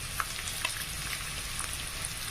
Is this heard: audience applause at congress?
no